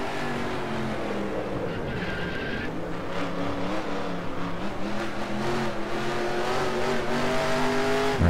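Simulated NASCAR race car engine in the NASCAR Racing 2003 game, droning and shifting pitch as it downshifts and spins, with layered engine tones and a tire-squeal edge throughout, steady and loud.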